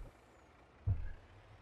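A truck in a farming video game releasing its air brakes: one short, sudden hiss-thump midway, over a quiet low engine hum, no talk.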